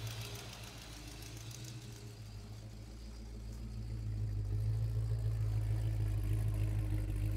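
Abandoned 1970 Oldsmobile Cutlass engine idling after 15 years, a steady low rumble with smooth, even pulses and no noticeable lope, swelling slightly louder midway and holding, with no voices.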